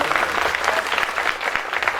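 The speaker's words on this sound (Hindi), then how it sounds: "ताली होनी चाहिए एक बार।" Audience applause at a live Bhojpuri birha stage performance, a dense, steady clapping crowd filling the whole moment without a break.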